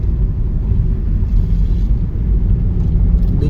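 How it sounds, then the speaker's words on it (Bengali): Car engine rumbling steadily as the driver shifts from first into second gear, a continuous loud low drone with no break in the engine noise. "2 নম্বর গিয়ার ফালাইলো"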